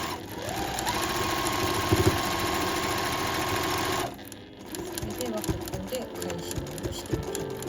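A sewing machine stitches fabric for the hem of room pants, a steady close mechanical whir with rapid needle rhythm, briefly pausing and then resuming with a choppier pulse.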